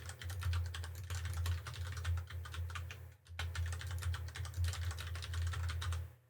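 Someone types a password on a computer keyboard, with rapid close key clatter in two bursts separated by a brief pause, over a low steady hum and without speech.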